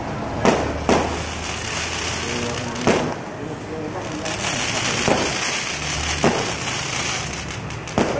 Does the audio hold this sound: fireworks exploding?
yes